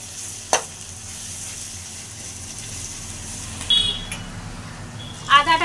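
Onions frying in a pan, reddening in a steady low sizzle that runs throughout, with a faint click early on and a few brief scrapes or clinks near the end.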